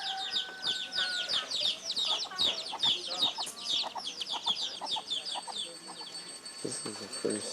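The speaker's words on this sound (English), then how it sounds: "and the chickens." Chickens at a temple in Bali cluck and chatter continuously in a busy, overlapping flock, fairly close, with a few louder squawks and low background noise.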